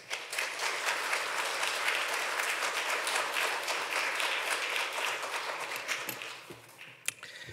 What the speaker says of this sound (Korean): 우리 목사님 박성희 목사님 나오실 때 큰 박수로 환영해 주시면 감사하겠습니다.